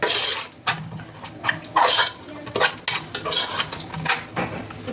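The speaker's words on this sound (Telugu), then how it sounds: "సాల్ట్ కరిగే వరకు దీన్ని కలుపుకోవాలండి" A spoon stirs a paneer masala mixture in a metal pot, with repeated close clinks and scrapes against the sides in uneven bursts and no voices.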